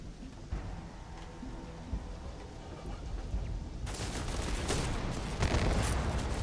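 Gunfire from the space game Starfield, a dense crackling burst that swells loud in the second half after a quieter stretch with a few isolated shots, continuous and close.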